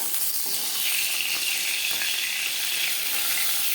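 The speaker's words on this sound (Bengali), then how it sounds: "নরম মাছ, একটু সাবধানে ভাজতে হবে।" Bhola fish frying in a pan gives a steady, bright sizzle that runs unbroken from start to finish, close and fairly loud with nothing else heard.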